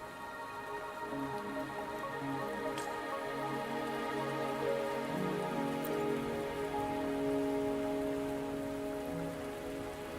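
Steady rain patters continuously on surfaces in the video game Wuthering Waves, with soft background music beneath and no talking.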